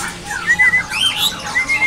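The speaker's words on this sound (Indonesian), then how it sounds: "Sekarang kita pantau untuk burung mentet ya" A mentet songbird at a bird market gives a series of bright, clear chirps and short whistled phrases, fairly close and loud against quiet surroundings, with no talking.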